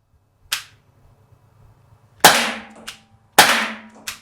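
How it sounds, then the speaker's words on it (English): An Umarex T4E TR50 .50 caliber paintball revolver fires three loud, sharp shots at a target, spaced about a second apart, each with a quick crack and short ringing decay, with quieter clicks between and no talking. "Let's put some rounds in this target and see what kind of accuracy we get."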